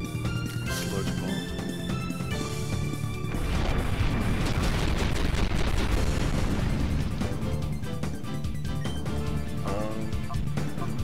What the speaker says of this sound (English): Sludge Bomb.